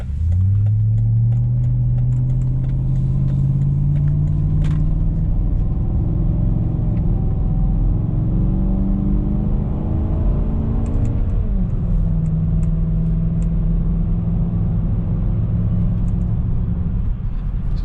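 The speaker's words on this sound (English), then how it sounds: "So power is pretty good, and it sounds pretty good too" A 2010 Volvo XC90 V8 driving through snow, its engine rising in pitch through steady acceleration, easing off and pulling again, a close continuous rumbling drone throughout.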